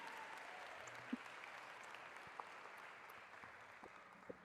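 Applause from a church congregation during a sermon, a steady wash of many hands clapping at a moderate distance, fairly even throughout with a few sharper claps standing out.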